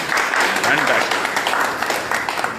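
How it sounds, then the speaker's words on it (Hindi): Audience applause at a first aid and emergency training session in India, a steady patter of many hands that runs through the whole moment while a voice speaks over it. "आपने सबके लिए एक बार तालियां बजाइए जोरदार।"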